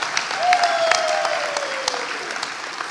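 Applause from a crowd at a fire academy class graduation as a graduate is called forward to receive a helmet, a steady burst of clapping lasting a few seconds in an indoor hall.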